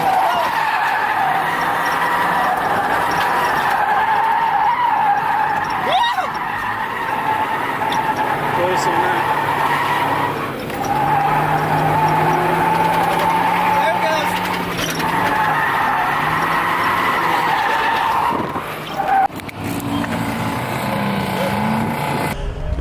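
A Mazda Miata 1.8 NA, a '96 M edition, drives hard with sustained tire skidding and squealing over a steady engine note, loud and continuous throughout, with people talking over it.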